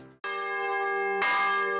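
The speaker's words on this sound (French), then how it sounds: "Une cloche qui sonne toutes les demi-heures" A village church bell rings out, struck twice in quick succession. Each clear, resonant tone hangs and sustains loudly, with nothing else around it.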